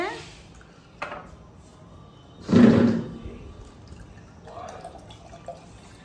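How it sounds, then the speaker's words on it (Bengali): A green coconut is hacked open with a blade by a roadside vendor, giving a few sharp close chops, with one louder heavy strike in the middle, amid outdoor background and nearby talking. "এবার বাবা আমার জন্য ডাবটা কেটে দিচ্ছে"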